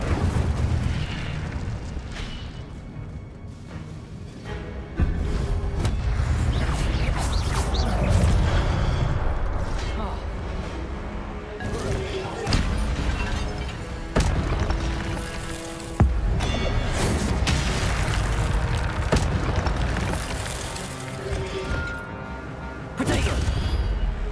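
The Incendio fire spell in Hogwarts Legacy goes off during a guarded combat encounter: loud, repeated booming blasts and crackling bursts over dense, continuous game music and effects for the whole stretch.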